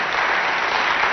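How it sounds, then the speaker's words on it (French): Loud, dense audience applause for a children's choir at a televised Christmas special in Chad, filling the whole short stretch as a steady wash of clapping with no pause. "On applaudit très très fort encore pour les enfants guides."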